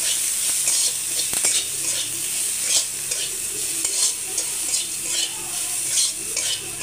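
A spiced pakora mixture with chopped green chillies fries in a pan on a gas stove, making a continuous hissing sizzle with occasional scraping stirs and small clatters. No one speaks.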